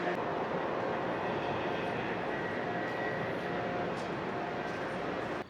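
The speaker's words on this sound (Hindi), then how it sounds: "ये वो ट्रेन है जिससे मैं आया था" Steady, loud roar of the Haramain high-speed bullet train at the Madinah station platform, a broad continuous rumble and rushing noise that holds evenly throughout and cuts off abruptly at the end, with no talking.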